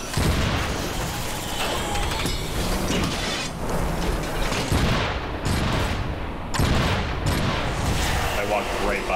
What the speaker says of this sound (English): Shotgun is so much more fun up close.